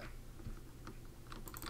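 Quick, uneven keystrokes on a computer keyboard, a faint scattering of light clicks that thickens into a denser burst near the end.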